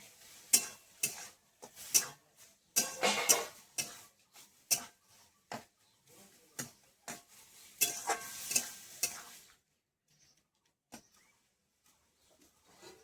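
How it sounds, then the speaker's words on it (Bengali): Raw green mango chutney is stirred in a pan, giving a run of soft scraping, clicking spoon strokes in an irregular rhythm over a faint sizzle, close by, tapering into quiet near the end. "দিয়ে একটুখানি এরকম নেড়ে চেড়ে নেবো, তাতেই আমটা এখন কচি আম, একদম সেদ্ধ হয়ে যাবে।"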